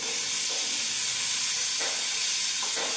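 A large onion dropped into a hot skillet for jambalaya gives a broad, steady hissing sizzle, close and continuous, with a couple of brief swells in intensity near the end.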